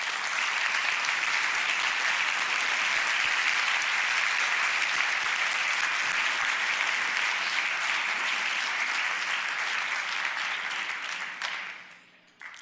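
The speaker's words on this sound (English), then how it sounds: "we would like to give you a round of applause" An audience at an evening talk on Thomas Jefferson gives a long, steady round of applause that holds at an even level for about eleven seconds before tapering off abruptly.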